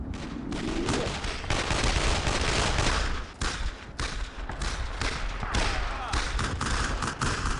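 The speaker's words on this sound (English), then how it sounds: "Machine gun! MG-42!" MG-42 machine gun fire in the World War II shooter Brothers in Arms, dense bursts of rapid automatic fire and explosive thumps, loud and nearly continuous with brief gaps, while a voice calls out over the battle.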